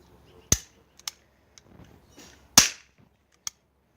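A toy cap gun fires caps outdoors: two sharp, loud cracks about two seconds apart, with smaller clicks and snaps of the mechanism in between and after.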